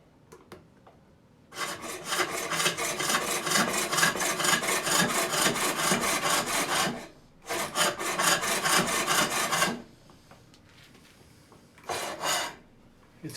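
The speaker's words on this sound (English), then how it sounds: "I'm gonna scrape just a little bit on this." A wooden lidded box spinning on a foot-powered pole lathe is scraped with a hand tool in a long run of rapid rhythmic rasping, then a shorter second run, a pause, and a final brief burst.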